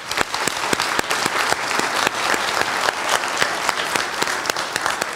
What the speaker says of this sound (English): Please join me in thanking and applauding all of them for their support.